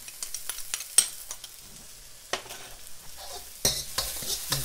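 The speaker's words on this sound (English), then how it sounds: "and keep stirring." Chili paste and green chilies fry in a pan while a spoon stirs them, giving a soft, steady sizzle with repeated scraping strokes and occasional louder clinks, close and fairly quiet.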